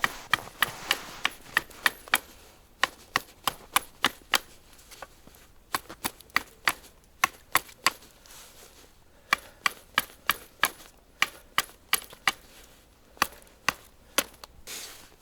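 A blade chopping into a wooden pole outdoors in the snow, with a long series of sharp, evenly spaced strikes that ring out clearly, each a crisp crack with a brief gap before the next.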